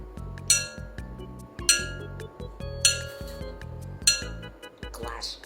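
A glass bowl is tapped four times at an even pace, each strike a bright, ringing clink that decays slowly, with low vocal sounds in the pauses between taps.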